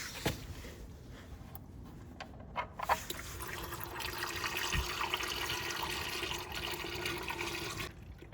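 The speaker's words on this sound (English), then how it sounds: "now we can drain the oil, fill in the correct oil" Engine oil draining from an Iseki TA262 tractor whose engine had filled with canal water, a steady liquid pour running for several seconds at moderate level with a few clunks near the start.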